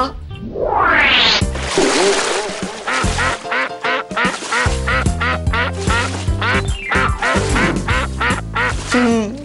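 A cartoon duck quacks loudly and repeatedly in a busy, nonstop run of calls over about nine seconds, with no talking.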